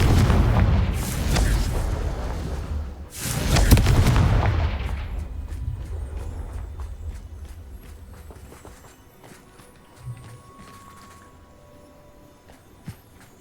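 Confringo fire spell explosions in Hogwarts Legacy, two heavy booming blasts close together that roll off into a long fading rumble, followed by quieter scattered clicks and footsteps.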